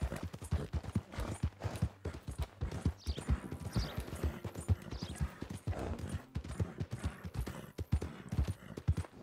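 Horse hooves clip-clopping while riding in Red Dead Redemption 2, a brisk steady rhythm of close hoof strikes continuing for several seconds, with occasional faint background sounds.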